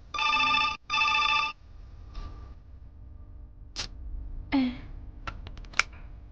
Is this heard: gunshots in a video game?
no